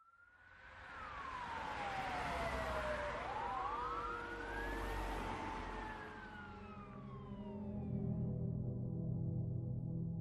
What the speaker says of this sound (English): Seconds later, fire trucks, police cruisers, and an ambulance roared through the small town of Innisfail